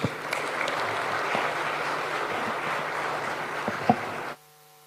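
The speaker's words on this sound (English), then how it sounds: "welcome His Excellency the President to give us his vision with a round of applause" Steady applause from an audience standing to welcome the President at a KICC gathering, continuous and moderately loud with a few sharper claps, cutting off abruptly near the end.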